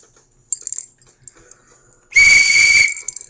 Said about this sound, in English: This year we have what we're calling camp callers, cute little duck whistles